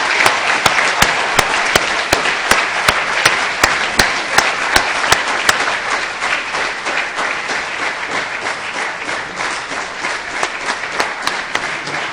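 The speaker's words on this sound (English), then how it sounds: "please welcome Dato Dr. Lim Seo Jin to the stage with a big round of applause." Big round of applause from a large audience welcoming a speaker to the stage, loud dense clapping with sharp individual claps cutting through early on, continuing steadily for about twelve seconds.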